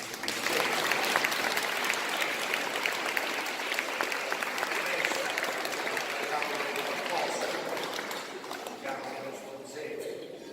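A crowd applauds at an Italian Passion performance, a broad steady clapping that fades slightly toward the end, with some voices underneath.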